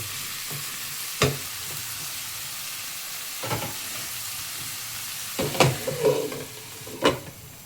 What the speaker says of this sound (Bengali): সবজিটাকে আমি 5 মিনিট ঢাকা দিয়ে ভালো করে ভেজে নেব।